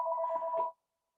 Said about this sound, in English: I don't want my phone ringing endlessly.